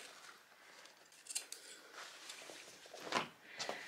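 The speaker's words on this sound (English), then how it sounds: "I'm going to carry on and cut right down across that seam and cut down the leg seam" Scissors snip through the seam of denim jeans, a few close, crisp cutting crunches spaced irregularly with soft fabric rustling between them.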